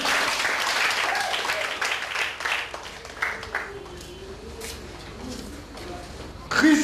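A church congregation applauding the Lord during a service, a sustained wash of clapping that thins and swells, with voices mixed in and a fresh loud burst of applause at the end.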